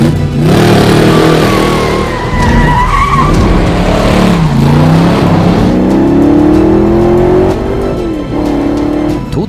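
An AC Cobra Daytona engine roars loudly and continuously, its pitch sweeping up and down as it revs, with a hint of tire squeal over the steady drone.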